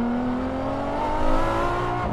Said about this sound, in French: un V12 atmosphérique qui hurle